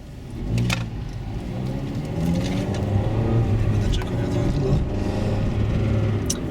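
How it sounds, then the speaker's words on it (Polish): A school bus rolls past on a street, its mid-range engine rumbling steadily up close for several seconds while a voice talks over it. "a tu autobus jedzie szkolny"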